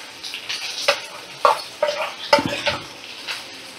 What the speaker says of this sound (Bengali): এবার আমি সর্ষে আর পোস্ত বাটা এতে দিয়ে দেব।